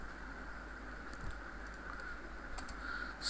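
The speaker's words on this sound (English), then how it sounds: "So I have to type here" Quiet, steady typing on a computer keyboard, a continuous patter of small key clicks over a faint electronic hum, with a slightly louder tap at the end.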